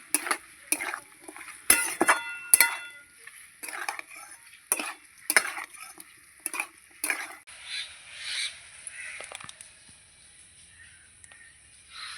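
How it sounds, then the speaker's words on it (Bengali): Spices, potatoes and fish oil are stir-fried in a pan, with sharp metal spatula scrapes and clanks in an irregular rhythm over a soft sizzle, then the stirring stops and a quieter hiss remains. "এবার মশলাগুলো ভালো করে আমি কষিয়ে নেব ভালো করে মাছের তেলটা মশলাটা আলুটা একসঙ্গে কষাবো সময় নিয়ে"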